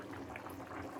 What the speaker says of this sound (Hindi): देखते हैं पानी में उबाल आ गया है